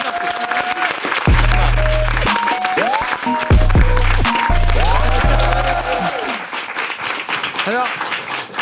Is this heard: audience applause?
yes